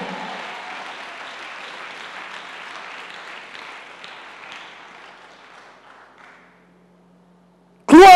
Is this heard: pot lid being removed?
no